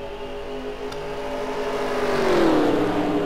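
A pack of NASCAR race cars roars off at the green flag at Daytona in a racing video game, a steady engine drone rising in pitch and loudness as the field accelerates together.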